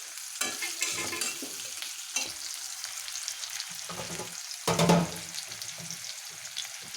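Green chillies fry in hot oil for a Bengali katla fish curry, giving a steady close sizzle with stirring clatter throughout and a louder hiss burst near the five-second mark.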